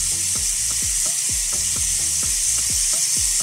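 Seasoned meat sizzles steadily in a pan for lasagne made with plantains, with repeated scraping stirs giving a regular rhythm over a constant loud frying hiss.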